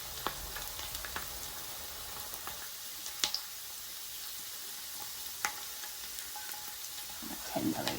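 Chicken schnitzel nugget pieces fry in a big pan with a soft, even hiss of oil, punctuated by occasional pops and taps from handling, quiet and close without speech.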